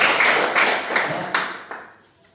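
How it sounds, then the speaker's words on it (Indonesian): Students in an Islamic boarding school classroom give a short round of hand claps, several distinct claps spaced out and fading to quiet by the end. "Ya, tepuk tangan untuk."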